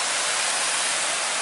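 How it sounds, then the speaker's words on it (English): A forest-trail waterfall at Slate Run, Pennsylvania, a steady broadband rush of falling water, loud and close, with no voices over it. "I was talking about the waterfall."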